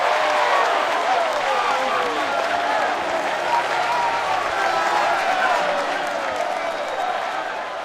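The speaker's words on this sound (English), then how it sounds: "Wow, the crowds love it" A crowd in the World of Warcraft game cheers and applauds steadily and loudly for the whole stretch, a dense continuous roar with no pauses, easing off slightly toward the end.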